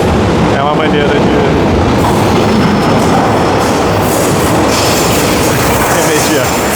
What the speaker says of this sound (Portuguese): dá tempo de mostrar o metrô indo. Adeus, trem.